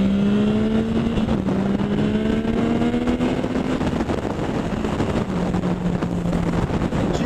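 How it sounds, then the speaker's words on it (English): A Yamaha FZ-09 motorcycle pulls hard in second gear on a coastal ride, engine note climbing through revs and dropping at smooth gear shifts, heard close from the rider's position with heavy wind rush throughout. "you can hear the tranny shifts really smooth"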